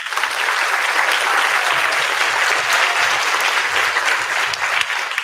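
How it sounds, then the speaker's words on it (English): A school spring orchestra concert audience applauds in a dense, sustained wash of clapping from many hands, loud and even throughout with no pauses. "So round of applause for them."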